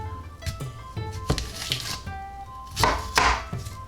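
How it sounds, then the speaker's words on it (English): A knife chops an onion on a cutting board in a quick, uneven series of sharp, close taps, with a few louder strikes near the end and soft background music underneath. "There is no wrong way to cut an onion."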